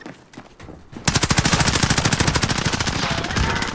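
Rapid automatic gunfire from the Call of Duty: Warzone video game erupts after a brief quiet, a loud, close burst of evenly spaced shots that keeps hammering steadily to the end.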